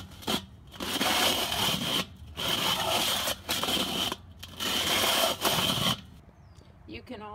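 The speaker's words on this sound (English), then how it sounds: "So you pull this little handle right there." The ash-cleaning handle on a top-of-the-line Weber charcoal grill is pulled back and forth, giving repeated scraping, rasping metal strokes in a regular rhythm, close and fairly loud, ending in a brief quiet stretch.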